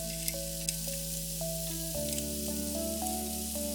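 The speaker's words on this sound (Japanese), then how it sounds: "スナップエンドウは水を大さじ1くらい入れて蒸し焼きにします。" Snap peas steam-frying with about a tablespoon of water in a small section of a triple pan, giving a steady hissing sizzle with faint clicks and a tonal background hum.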